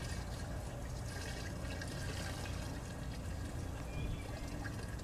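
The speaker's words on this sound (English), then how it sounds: "And here's 3 gallons of waste veggie oil. I'm gonna dump this right in." Roughly three gallons of waste vegetable oil pour steadily into a container for a small biodiesel batch, making a continuous gurgling, splashing flow close by with no talk.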